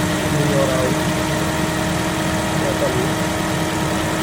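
A Ford B-Max engine idles after a drive belt replacement, a steady, even mid-pitched hum running continuously and close, with a voice speaking over it.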